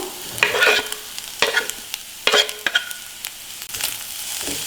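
Fried eggs with fenugreek and chopped coriander are stirred in a pan, a spoon scraping in bursts over a soft, steady sizzle, close and alone.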